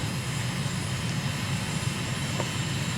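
A steady, loud drone from the engine of a Shock Ultra light aircraft in Microsoft Flight Simulator, cruising slowly at around 80 knots. The sound is continuous and broadband with no gaps or talk.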